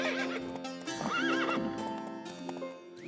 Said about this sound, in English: The prince rode to the castle on his horse.